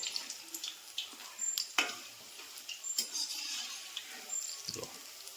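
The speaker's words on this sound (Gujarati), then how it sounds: "ચલો મિક્સ કરી લો." Bhajiya batter with fenugreek, spinach, onion and green chillies is stirred by hand outdoors, producing soft wet squelches and scattered clicks against the bowl, fairly quiet and irregular.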